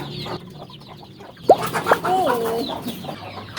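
A chicken gives a few sharp clucks and a drawn-out squawk over low background noise, fairly close.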